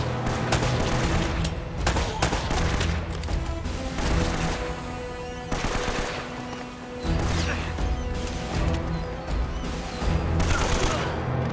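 Gunfire from the video game Uncharted: Drake's Fortune crackles in repeated bursts and volleys, moderately loud and close, with a brief lull midway.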